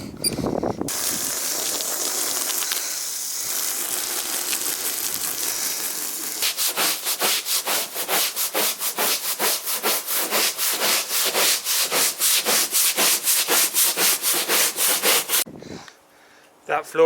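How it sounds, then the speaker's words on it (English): Sponge scrubbing the floor of a Ford Transit van, a steady wet rubbing that turns into a fast regular back-and-forth rhythm of close strokes, with a brief pause at the end. "just a light sponging is definitely an improvement"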